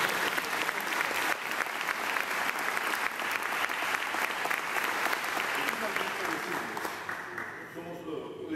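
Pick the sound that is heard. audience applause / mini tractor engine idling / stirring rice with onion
audience applause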